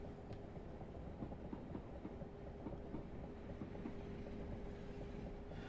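Simulated train running on the Ashford to London Charing Cross main line in a train driving game, a steady low rumble with faint repetitive clickety-clack and a sustained tone, continuous and moderately quiet with no talking.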